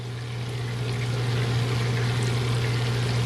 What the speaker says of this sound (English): But here we're bubbling away.